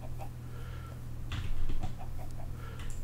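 Chickens in a survival video game cluck in short, scattered bursts over a steady low background hum, fairly close and moderately loud.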